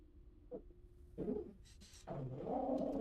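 A dog in the World of Warcraft video game lets out a few short whimpers and barks in brief separate bursts, followed by a longer, throaty whine, moderately loud and without voices.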